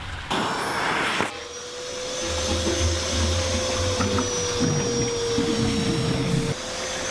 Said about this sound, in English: we're just going to take a vacuum and suction the air out